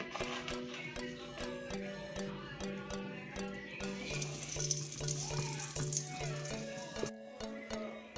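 Salted brinjal slices fry steadily in a pan, a continuous close sizzle and crackle with faint ticking utensil sounds running throughout, no one talking.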